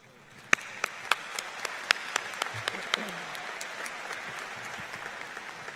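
Graduation ceremony audience in a large hall applauding a new doctoral graduate, with distinct loud claps standing out early on, then settling into a steady, spread-out round of applause with some voices underneath.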